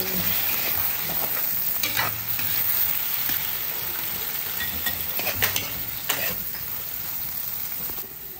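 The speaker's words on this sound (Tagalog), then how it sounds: "lagay na po natin yung hipon" Shrimp frying in melted margarine in a pan, a continuous sizzle with occasional scraping stirs and clinks.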